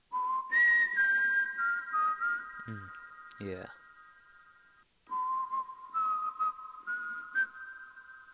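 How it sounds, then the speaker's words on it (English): Melodic whistling from the Incredibox music game, clear sustained tones in two phrases with a brief clicking beat between them, loud and close, and a voice speaks briefly. "oh, there's somebody whistling"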